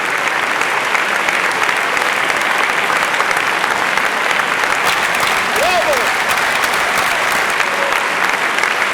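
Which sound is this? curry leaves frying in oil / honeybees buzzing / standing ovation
standing ovation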